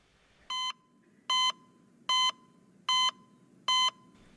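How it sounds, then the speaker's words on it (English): Five evenly spaced electronic beeps, each short and bright, repeat at a steady rhythm like a monitor tone against a faint background hiss. "I went online and found a good heart monitor beeping sound on a very dodgy website"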